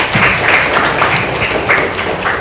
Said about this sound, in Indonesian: Tepuk tangan buat Apipah.